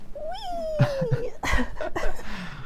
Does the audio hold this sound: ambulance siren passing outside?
no